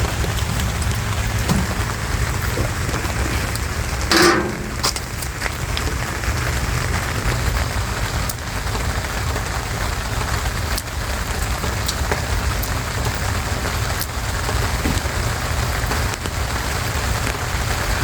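Steady rain pattering onto surfaces outdoors beside a smoker cooking county-style ribs, a dense continuous hiss of drops with one brief sharper tap partway through, loud and unbroken for the whole stretch.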